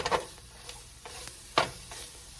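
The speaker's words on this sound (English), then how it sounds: "our flour has been cooking for about a minute" Flour cooking into a roux in a pan for mushroom gravy, a faint sizzle broken by several distinct scraping strokes of a spoon or spatula, with no talk.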